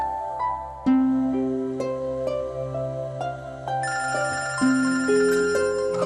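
A TV series episode's phone ringtone plays a bright, repeating melodic tune of stepped electronic notes, clear and alone with no voices.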